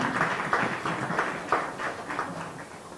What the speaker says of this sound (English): A round of applause to my panel.